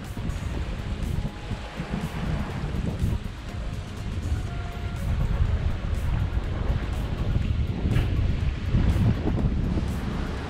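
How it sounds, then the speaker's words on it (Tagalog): Steady wind buffets the microphone at a beachfront dive and leisure resort, with a continuous low roar and faint surf underneath, loud and unbroken throughout, no talking. "Sarap ng hangin."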